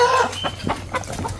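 Hens in a backyard flock cluck and chatter nearby in short, uneven bursts, with several birds calling over one another at close range.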